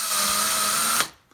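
A power driver spins a self-tapping sheet metal screw straight into a mounting clip, giving a short, steady high whine that cuts off after about a second.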